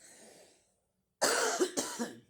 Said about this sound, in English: my cough doesn't want to calm down